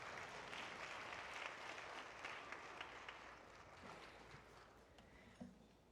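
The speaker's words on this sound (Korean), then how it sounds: "큰 박수로 맞아주세요." Faint, distant applause from an audience at the 12th graduation ceremony of Saeeum School welcomes the principal, a soft, steady wash of clapping that thins slightly toward the end.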